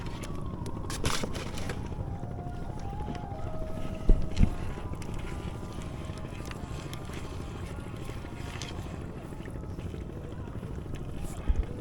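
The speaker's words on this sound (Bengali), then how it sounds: "এই যে ওই পাশে নৌকা, দুই নৌকা, একই জাল দুই নৌকা তুলতেছে।" Two boats on the Jamuna River near Sariakandi, Bogura, haul a single fishing net together, with a steady low rumble of boat and water, wind buffeting the microphone, and a few sharp knocks.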